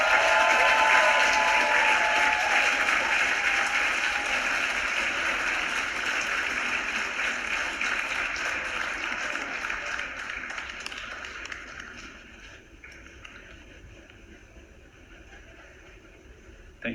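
Graduation ceremony audience applauding the Master of Industrial Design graduates, a broad steady wave of clapping with faint cheers early on, gradually thinning and fading out over the last few seconds.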